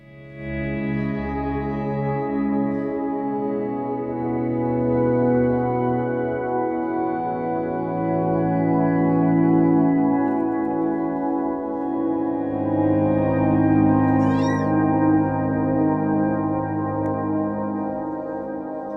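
Smooth electric guitar notes swell in through a volume pedal with no pick attack, blending into a lush, reverberant wash from a Strymon Blue Sky reverb that rises and fades over a long stretch.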